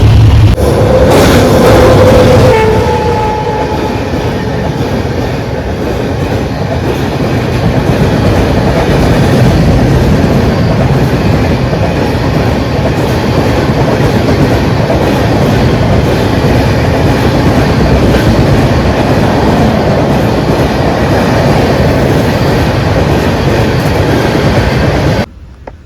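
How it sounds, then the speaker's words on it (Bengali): Gour Express train 13154 running on rails after leaving Murarai, a loud continuous rumble with rhythmic wheel clatter heard from inside the carriage, with a brief louder burst at the start. "আমাদের ট্রেন এখন ছেড়ে বেড়াচ্ছে মুরারাই"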